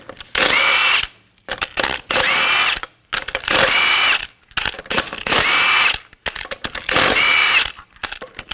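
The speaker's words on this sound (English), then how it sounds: "Use a 22mm socket to take the lug nuts off." Power tool with a 22mm socket spins lug nuts off a 2014-2018 GMC Sierra 5.3L V8 wheel, loud close-up whirring bursts repeating five times with short quiet gaps between.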